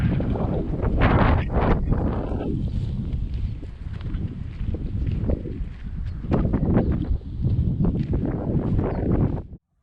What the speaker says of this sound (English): I couldn't get out of the wind that day